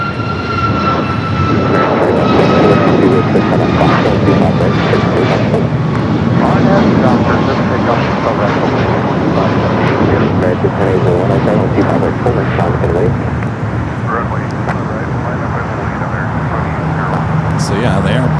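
An Aeromexico jet airliner comes in to land on runway 25 left at LAX, its engines a loud, sustained roar that swells and settles steadily, with voices speaking over it.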